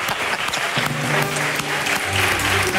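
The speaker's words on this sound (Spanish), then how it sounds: "este aplauso es para María en su despedida" A studio audience applauds steadily for a departing guest on a Spanish late-night variety show, dense clapping filling the whole stretch with a musical tone rising beneath it.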